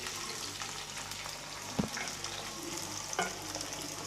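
Jackfruit pieces frying gently in a pan for a vegetable dish, a soft steady sizzle with a couple of brief knocks from the spoon as they are turned.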